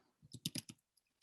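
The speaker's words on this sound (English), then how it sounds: "Actually, I was just typing." A short burst of typing on a computer keyboard: about half a second of quick, light key clicks, faint and close, then a couple of stray taps in near silence.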